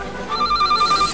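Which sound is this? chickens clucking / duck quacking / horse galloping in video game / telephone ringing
telephone ringing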